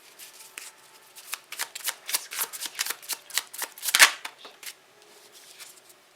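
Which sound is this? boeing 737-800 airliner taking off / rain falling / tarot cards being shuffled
tarot cards being shuffled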